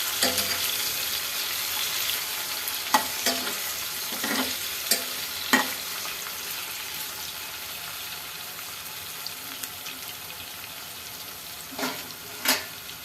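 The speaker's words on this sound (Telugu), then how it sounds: "రెడ్ అయ్యేదాకా ఎంపుకోవాలి ఇట్లనే" Bitter gourd (kakarakaya) fries in a pan with a steady low sizzle, punctuated by occasional scraping knocks of a spoon stirring it; no talking.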